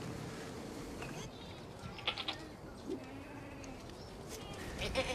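Goats at a Bedouin desert camp give a few faint, short bleats over a soft background hum, distant and sparse.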